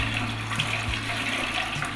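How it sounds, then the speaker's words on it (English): Warm water at about 150 to 170 degrees is poured over a grain bag of homebrew beer mash during sparging, making a steady, close rushing trickle with a faint low hum beneath and no voices. "I can take some warm water, about 150 to 170 degrees, and just rinse that on there"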